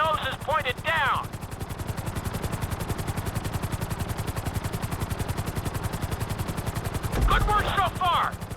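A helicopter flies in GTA 5 flight school, its rotor chopping in a steady, loud rhythmic pulse throughout, while a voice talks briefly at the start and again near the end.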